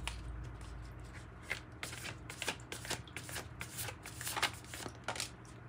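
Moonology oracle cards shuffled by hand, a close run of crisp riffling and flicking card sounds, steady throughout with no talking.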